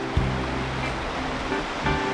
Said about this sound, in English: There's a river.